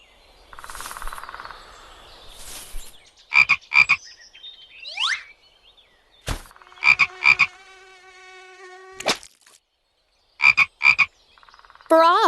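Repeated clusters of sharp, rhythmic frog croaks ring out close and loud among forest sounds, with insect buzzes and a brief chirp between the bursts.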